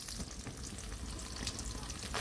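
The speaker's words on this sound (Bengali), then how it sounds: "মাছ হচ্ছে কড়া ভাজা না দিলে ভালো লাগে না, হচ্ছে কড়া ভাজা দিতে হবে" Fish frying in a pan, heard as a faint, continuous crackling sizzle close by with soft spatter, no talking.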